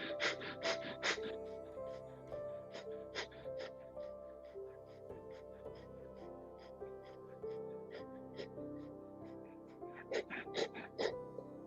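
Rapid rhythmic yoga breathing known as breath of fire, with quick forceful nasal exhales pulsing steadily over soft background music, near and fairly quiet, with a stronger burst of breaths at the start and end.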